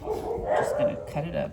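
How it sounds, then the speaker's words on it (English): Dogs bark in the background at a rural home with chickens, a few scattered barks under a nearby voice speaking steadily. "A lot of dogs, a lot of chickens, and those are my dogs barking."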